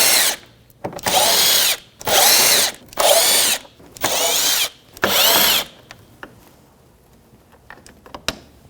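A power driver backs out T20 Torx screws along the top of a 2007-2017 Jeep Patriot front bumper cover, five loud whirring bursts in a row, close up, followed by quiet clicks and handling noises.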